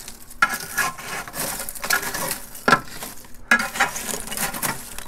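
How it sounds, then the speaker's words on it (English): Metal tool scraping ash out of the holes in the bottom of a Kick Ash Basket, close, gritty scrapes and rasps in uneven bursts with brief metallic clinks. "So this is what I gotta do between every cook. Scrape that out."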